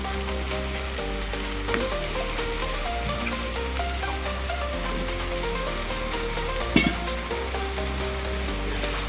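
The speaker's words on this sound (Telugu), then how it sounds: "మనము రెడీగా పెట్టుకున్న కట్ చేసుకున్న వంకాయలు వేసేసుకోవాలి" Cut eggplants frying in a hot pan for stuffed brinjal curry, giving a continuous dense sizzle like rain, with steady background music and a brief clatter partway through.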